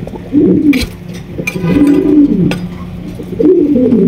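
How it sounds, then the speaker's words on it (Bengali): A pair of racing pigeons coo loudly up close, giving three rolling throaty coos in a steady rhythm, with faint clicks and rustles between them. "এখানে রয়েছে একজোড়া রেসার কবুতর"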